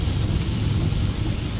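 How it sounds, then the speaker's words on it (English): Heavy rain pouring down outdoors, a dense steady wash of noise with a deep rumbling low end, loud and continuous with no gaps and no talking. "It's now pouring with rain."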